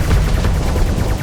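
A weapons barrage in the space combat game Starsector: a dense, loud, continuous roar of rapid gunfire and booms, close and heavy with deep low-end rumble throughout.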